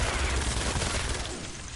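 In Fortnite Save the World, an original-style SMG fires in a fast, dense burst of rapid shots that fills the whole moment. The sound is loud and continuous, with no clear gaps between shots.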